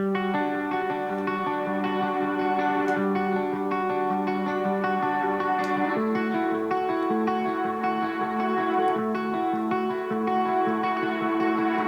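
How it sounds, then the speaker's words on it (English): Sustained electric guitar chords ring out through heavy automated reverb, the notes blurring into a washed-out shimmer, with a chord change midway. "You can see I have some reverb automation on this guitar."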